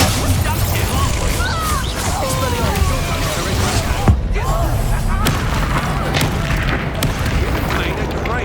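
Explosive spells go off in a Hogwarts Legacy battle, a dense run of booms, crashes and whooshing impacts under constant shouting voices and combat chatter.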